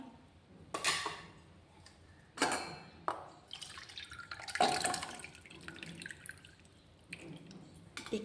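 Homemade desi ghee being strained, with liquid dripping and trickling in several separate bursts alongside light clinks of utensils, close and fairly quiet.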